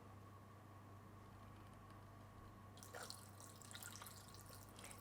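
Water poured into a Thermomix TM6 bowl: a faint splashing trickle starts partway through over a low steady hum from the appliance, continuing in soft uneven bursts to the end.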